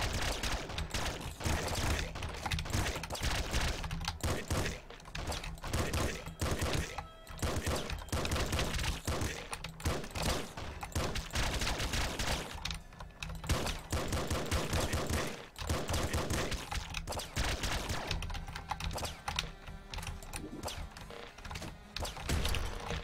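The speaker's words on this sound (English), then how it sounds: "Assault rifle, that's good." Assault rifle fire in the video game Nuclear Throne, loud rapid continuous bursts of game gunfire and impacts running almost unbroken, with brief pauses between volleys.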